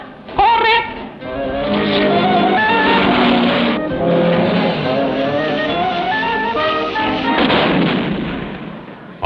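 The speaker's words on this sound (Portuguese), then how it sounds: "A bomba explode e manda o Batilac para as alturas." Cartoon bomb blast from a 1966 animated series, a loud sustained roar with crackling and booming layers rolling on for several seconds, swelling again near the end.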